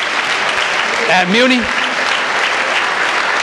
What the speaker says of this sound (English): So a round of applause to those that get beaten up all the time